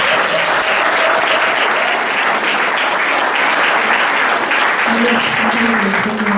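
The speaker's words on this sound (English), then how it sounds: "and another round of applause for the whole panel, please." Sustained, full applause from an event audience for a discussion panel, many hands clapping continuously, with a voice briefly audible over the clapping near the end.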